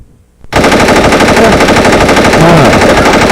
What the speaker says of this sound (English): That's all you heard was just gunfire.